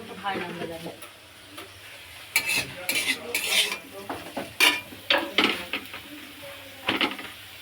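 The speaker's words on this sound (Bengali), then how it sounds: "ডালিয়াটা একদম ভেজে ভুজে একেবারে কড়াইতে করে বসিয়ে দিচ্ছি" Broken wheat daliya being stirred in a kadai: a spoon scrapes and clinks against the metal in irregular strokes over a soft sizzle, with occasional speech.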